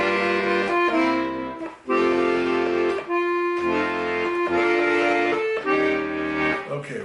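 An accordion plays the original melody of Talk of the Town, section one, a full reedy sound with sustained chords and melody notes, steady and close with brief breaks between phrases, no voices.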